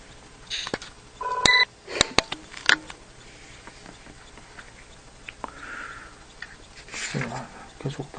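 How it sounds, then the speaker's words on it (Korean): A telephone rings during a Buddhist lecture at a temple, with a few short electronic ring bursts in the first seconds, then scattered clicks and rustling, and a voice speaking quietly. "전화 오는데"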